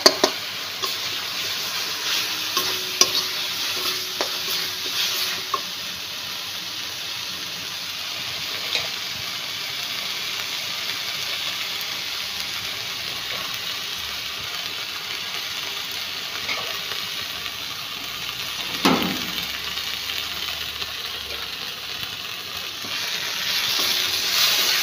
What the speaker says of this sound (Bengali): মশলাটা কষানো হয়ে গেছে, দেখতে পাচ্ছ তেল ছেড়ে দিয়েছে